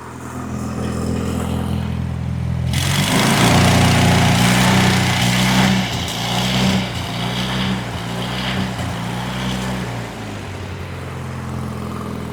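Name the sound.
Onan Performer 16 engine on Lincoln Ranger 8 welder surging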